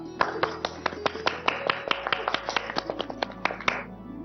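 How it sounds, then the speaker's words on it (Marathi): Scattered applause for child actors after a Marathi TV serial play scene, a run of sharp, fairly even claps that stops abruptly near the end. "त्यांच्यासाठी एकदा जोरदार टाळ्या."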